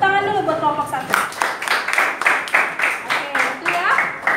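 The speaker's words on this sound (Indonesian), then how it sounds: "Tepuk tangan dulu buat kelompok satu" A school class claps together in a quick, steady rhythm for a group of students, the sharp unison claps following a voice and running over her speech.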